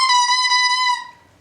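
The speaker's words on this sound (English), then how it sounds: "And the English horn reed sounds like this." An English horn reed blown on its own produces one steady, reedy crowing tone about a second long, close and fairly loud, before tapering away into near silence.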